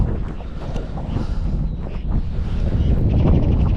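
Cold wind gusting across open water during spring pike fishing, buffeting the microphone in a steady low roar throughout, with no talk.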